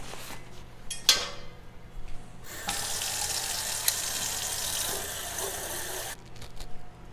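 Water runs from a tap into an MSR Titan titanium kettle, a steady hissing stream lasting several seconds, preceded by a few clanks and handling noises and ending with the flow cut off.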